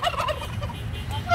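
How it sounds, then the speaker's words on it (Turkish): Turkeys on a village farm gobble in quick rippling bursts, moderately near, over a low outdoor rumble with no voices. "Hindiler de boğuruyorlar."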